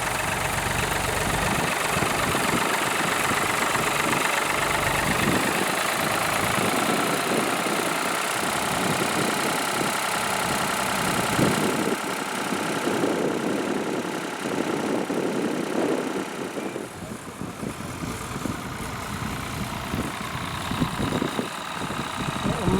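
A 1967 Ford 4000 tractor idles at an outdoor farming working day, a steady low rumble with a faint knocking rhythm that carries on throughout, with some background activity and occasional voices.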